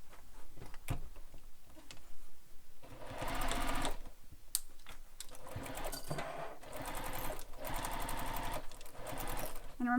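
A sewing machine stitches the seam of a bowler bag in several long runs with short pauses between them, close and steady.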